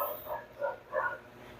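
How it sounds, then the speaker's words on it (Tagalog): A dog barks several times in quick yips, fairly faint and a little distant, with short pauses between the barks and no one speaking. "Ba't ang ingay ng aso?"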